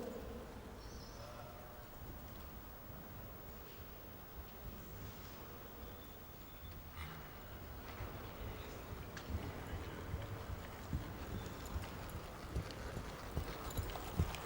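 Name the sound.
horse hooves at a working trot under saddle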